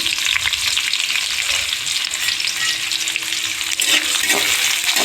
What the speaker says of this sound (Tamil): வெங்காயம் கருவேப்பிலையெல்லாம் நல்லா வதங்கட்டும்